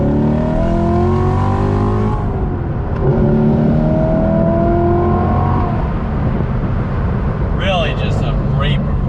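A C7 Corvette Grand Sport in sport mode accelerates on throttle, its engine note rising through gears with loud, close exhaust drone and a brief shift dip, while someone talks over it.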